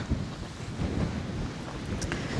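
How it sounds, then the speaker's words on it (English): Strong gusting wind at Lochindorb buffets the microphone in a constant low rumble with shifting swells, no voices present. "welcome to a very windy and blustery Lochindorb"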